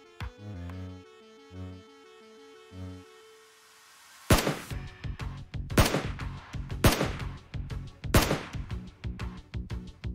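Gunfire in PUBG Mobile, with several loud, sharp shots cracking out one at a time at irregular intervals after a few seconds of soft musical game tones.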